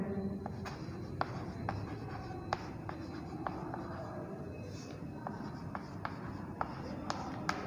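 Chalk or marker scratches across a classroom board in quick strokes and taps, close and clear over a soft room hum, with no talking.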